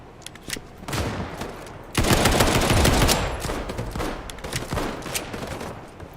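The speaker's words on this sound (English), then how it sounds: "I'm gonna pull out my Glock. Wreck you. Pistols only." Glock pistol fire in a first-person shooter video game, a dense loud volley of rapid shots that swells to a heavy roar midway and then breaks into scattered sharp cracks, close up.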